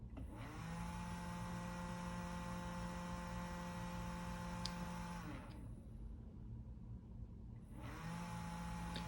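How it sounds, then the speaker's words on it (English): A small DC motor hums steadily at close range, its tone fading out for a couple of seconds before resuming, with no talking. "once the obstruction is removed, the DC motor will continue to run"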